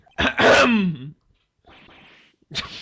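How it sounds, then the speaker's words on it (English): A loud, close throat clearing in the Phoenix Wright: Ace Attorney game, with a rough, forceful rasp, followed by a quieter breathy grunt and another short burst. "Clear my throat."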